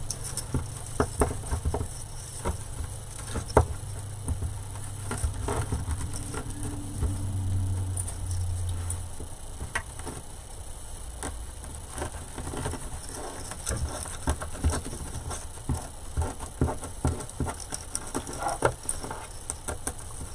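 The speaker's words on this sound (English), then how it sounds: "we're just getting rain" Rain patters steadily outdoors, a dense patter of drops with scattered sharper ticks throughout, moderately close and continuous with no talking.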